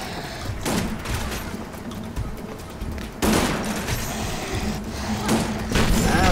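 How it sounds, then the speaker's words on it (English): Shotgun blasts in the Lara Croft Guardian of Light video game, several booming shots in quick succession over a dense, continuous bed of game action and explosions, loud and upfront throughout. "It's powerful for a shotgun."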